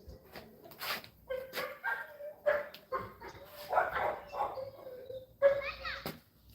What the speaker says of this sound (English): so they started barking. I don't know what's wrong.